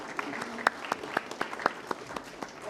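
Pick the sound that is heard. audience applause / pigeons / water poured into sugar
audience applause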